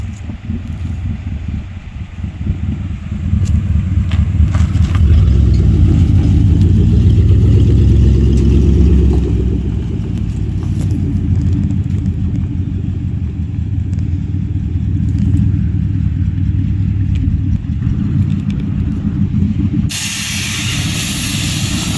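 A 1969 Ford F100 pickup drives along with a steady, loud low engine rumble and hissy road and wind noise, swelling for a few seconds, then holding constant until it cuts off.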